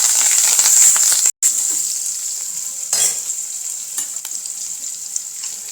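Cumin, carom seeds, sesame, green chillies and curry leaves sizzle in hot oil for a tempering, a bright steady crackle stirred close up, with a brief cutout and a few sharper spits and scrapes.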